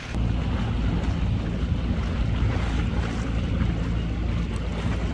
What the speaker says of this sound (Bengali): শুধুমাত্র যে ঢেউটা দেখা যাচ্ছে সেটা হচ্ছে বোটের ইঞ্জিন থেকে ক্রিয়েট করা যেই ঢেউটা